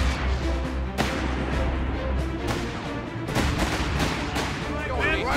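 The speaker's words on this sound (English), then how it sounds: "Gunfire up ahead." Heavy gunfire and booming blasts in the Company of Heroes 3 video game: sharp cracks and bursts at irregular intervals over a dense, continuous rumble of battle, loud and close throughout.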